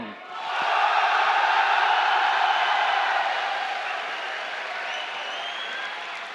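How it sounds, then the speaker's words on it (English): Sustained applause from a big audience at a DreamHack StarCraft 2 esports event, swelling quickly and then holding steady before easing slightly, with scattered cheers. "Applaudissements pour Hastem."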